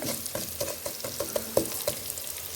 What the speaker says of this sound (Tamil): கொஞ்சமாக வெந்தயம் சேர்த்துக்கொள்ளுவோம். சேர்த்துட்டு இதையும் நல்லா ஒரு ஓரமாகவே வதக்கி கொள்ளுவோம்.